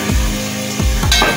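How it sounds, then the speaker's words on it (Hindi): Onions browning in a frying pan over a high gas flame give a steady, close sizzle and crackle, with a few scraping stirs across the pan. "प्याज ब्राउन हो रहा है"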